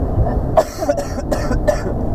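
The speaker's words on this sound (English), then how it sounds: "There's that cough." Repeated coughing from a person who is sick, several harsh bursts in a short span, close to the microphone over a low background rumble.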